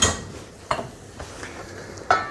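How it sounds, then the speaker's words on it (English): Beef masala curry with potatoes is stirred briefly in a pot, with a few clinks and scrapes of a utensil against metal, moderately loud and close, and no talk. "That goes into our pot. I'll give it just a quick stir."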